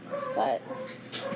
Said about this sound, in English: sorry about my dogs. My dogs are very dumb.